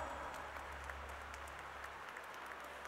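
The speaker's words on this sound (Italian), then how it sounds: "Un bel applauso per Bianca." Steady applause from a crowd at an awards ceremony fills the whole moment, even and sustained, heard from a slight distance.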